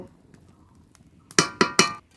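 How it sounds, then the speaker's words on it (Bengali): A hot metal wok used to cook rice and potatoes is handled on the stove, with three sharp metallic clinks in quick succession near the end after a quiet stretch. "কড়াই ধরে নামিয়ে নেব"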